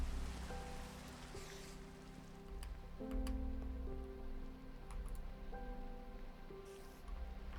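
Steady rain falls in the video game Minecraft, a continuous soft patter with light ticking drops, joined by a few quiet tonal notes and no talking.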